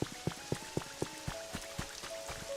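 Rain falling in the Pokemon Pokopia video game, heard as regular, evenly spaced soft drip-like taps over a faint steady wash, close and fairly quiet, with no one talking.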